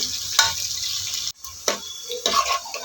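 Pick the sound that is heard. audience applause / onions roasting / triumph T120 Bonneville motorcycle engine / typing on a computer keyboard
onions roasting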